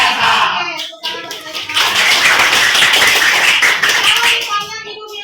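A classroom of children clapping hands together in unison, a loud burst of dense applause-like claps sustained for several seconds after a brief pause, with a teacher's voice speaking around it.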